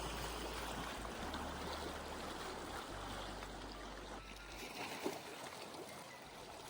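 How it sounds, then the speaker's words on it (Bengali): Lake water laps against the shore in soft, continuous washing and trickling, faint and close, with a low rumble underneath and no voices. "জলগুলো এসে পাড়ে এসে আছড়ে আছড়ে পড়ছে"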